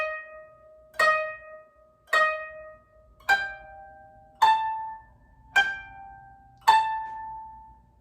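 A koto sounds six evenly spaced plucked notes on strings 12 and 13, each a bright ringing attack that decays before the next, in a slow steady beat with nothing else audible.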